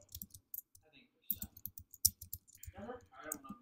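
Mouse clicks while working in Google Classroom, a few sharp close clicks spread across a few seconds, with a voice talking over them in between.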